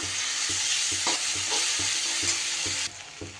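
Ginger, garlic and green chili paste sizzles loudly in a hot pan of oil, a dense close frying hiss with regular scraping stirs of a spatula, then the sizzle drops suddenly near the end.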